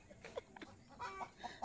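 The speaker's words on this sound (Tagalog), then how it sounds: "Bahala kayo mga manok kayo dyan. Nagputakan kayo." Chickens cluck in short, irregular bursts, several soft calls scattered close by against a quiet rural background, with no speech.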